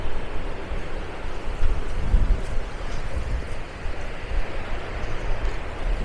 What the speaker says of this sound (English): It's very windy today, hopefully the sound quality isn't too bad.